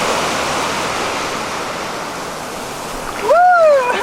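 Ocean surf at New Smyrna Beach, Florida rushes in a continuous loud wash with wind buffeting the microphone, and a whoop of a voice breaks in near the end.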